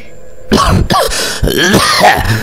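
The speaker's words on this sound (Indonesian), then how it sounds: "disusul dengan suara batuk-batuk yang keluar dari mulutnya" An elderly man coughs and clears his throat in a few rough, harsh bursts, close and fairly loud, with a wheezy, gravelly edge.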